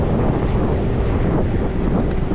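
Heavy wind buffets the microphone while riding an electric motorbike, in a steady, loud roar with low rumbling gusts and no voices.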